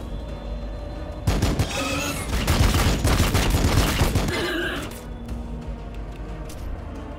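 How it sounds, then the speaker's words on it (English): Space Marine Intercessor squad in Warhammer 40K: Battlesector unleashes a dense volley of rifle fire, a loud sustained burst of rapid overlapping shots lasting several seconds before cutting off to background battle ambience. "Get off a bunch of shots with these intercessors."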